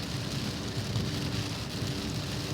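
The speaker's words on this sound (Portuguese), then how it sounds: "graças a Deus a chuva veio" Steady rain falls throughout, a dense continuous patter on a surface with no pauses and no voices, close and even in loudness.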